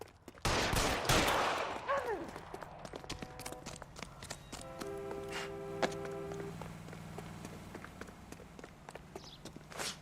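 Gunfire in the L.A. Noire video game during a police standoff, a loud broadband crack near the start followed by lingering reverberant tones and sustained musical hum.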